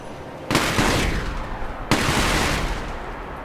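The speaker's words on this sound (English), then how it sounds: "you can just run over all the firecrackers" Firecrackers explode in the video game Sekiro: Shadows Die Twice in two loud bursts of dense crackling pops, each starting abruptly and fading into sputtering snaps over about a second and a half.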